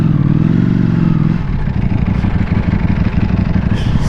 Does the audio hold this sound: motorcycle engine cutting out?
yes